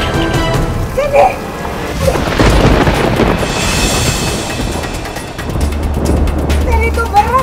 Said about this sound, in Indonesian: Nih hujan, masuk.